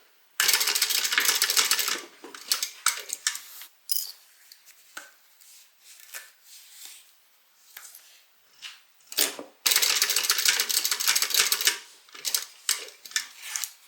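A sewing machine basting pleats along the bottom edge of a fabric bag, running in long rapid bursts with quieter stitching and pauses in between, close and fairly loud.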